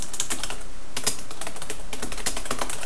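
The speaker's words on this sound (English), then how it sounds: "So that's all I'm going to type." A computer keyboard clatters with fast, continuous typing, close and fairly loud, the keystrokes tumbling densely with no pauses and no voice.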